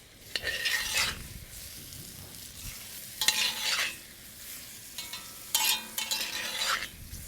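Tomato paste sizzles in a hot pot for a lamb and Guinness stew, stirred in several bursts of scraping and hissing with quieter simmering between, close up and with no talk.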